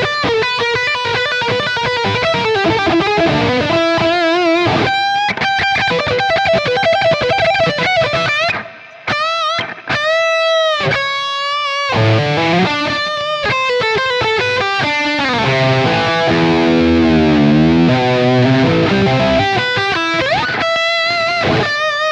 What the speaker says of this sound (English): Number 7 is the HBE with the mids, switch engage.